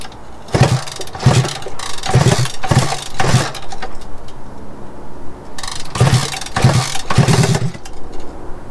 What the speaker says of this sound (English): I need to hear this thing run.